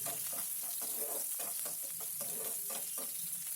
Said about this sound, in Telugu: తర్వాత ఉల్లిగడ్డ వేయాలి. కొద్దిగా వేపుకోవాలండి.